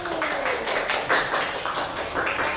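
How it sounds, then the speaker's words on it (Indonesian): Applause for group 1 in a classroom: a steady patter of many hands clapping at moderate volume, continuous for a few seconds without pauses. "kita beri aplaus untuk kelompok 1"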